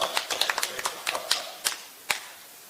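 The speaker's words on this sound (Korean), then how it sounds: "우리 박수 쳐야 됩니다" Scattered, sparse handclaps from an audience at a Taebaek city briefing in an arts hall, a few irregular sharp claps rather than full applause, fairly quiet and distant.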